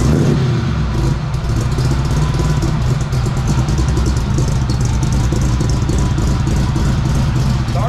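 A 1932 Alfa Romeo 8C 2300 Monza engine runs steadily and loudly throughout a test drive, a dense continuous mechanical drone with rapid firing pulses and no pauses, heard close and alone.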